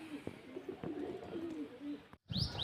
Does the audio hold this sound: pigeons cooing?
yes